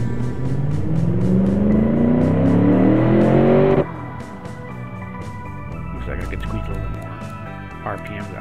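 A video game car engine of about 287 horsepower in Automation revs up with a steadily rising pitch for several seconds, then cuts off into quieter idling with soft background noise.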